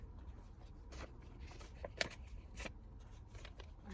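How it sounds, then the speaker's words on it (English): A deck of cards is shuffled, giving soft riffling flutters and a few crisp snaps, quiet and close, with no talk over it. "I just shuffled."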